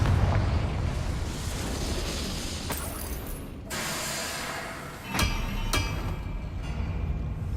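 A Confringo spell explodes in Hogwarts Legacy, heavy booming blasts and crackling bursts, with sharp cracks at intervals and a rumbling, sustained low roar.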